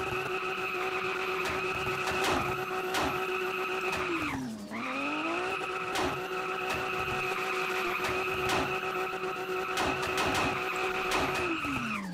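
A Ferrari drifting in a video game: a steady high engine whine with tire skid, dipping in pitch midway as it slows, then climbing back and holding loud and close.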